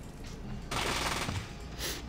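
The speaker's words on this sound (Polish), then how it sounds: "I ten strzał w oczy z tego śrutu to całkiem niezły jest." A shotgun blast from Fallout 2 booms loud and close, followed by a second, shorter burst of gunfire a moment later.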